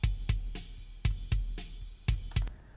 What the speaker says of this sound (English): Let's look at the kick here, for example.